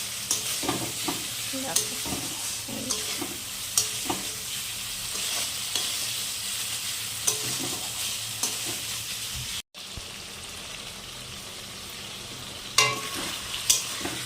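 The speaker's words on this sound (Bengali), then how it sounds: "এই দেখো আলুর সঙ্গে মশলাটা একটু জল দিয়ে কষাই নিলাম এই দেখো আর একটু কষাবো" Potatoes and spices stir-fried with a splash of water in a home kitchen pan, giving a steady close sizzle broken by scraping stirs and clinks, a short drop-out near the middle, then a louder scrape toward the end, with no talking.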